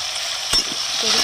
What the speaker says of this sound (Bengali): এবার দেবো এই যে পেঁপে, আলু, ডাঁটা সব একসঙ্গে ভালো করে ভেজে নেব সবজিটা।